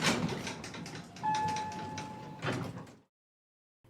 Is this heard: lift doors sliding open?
yes